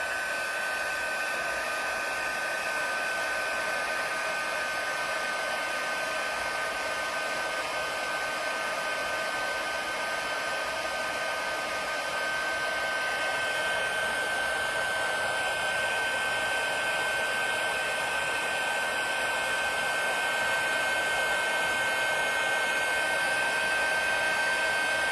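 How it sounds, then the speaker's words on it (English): An embossing heat tool blows hot air in a continuous, steady roar with a thin high whine, loud and close for the whole stretch, with no one talking. "let's go ahead and grab our heat tool and heat it up"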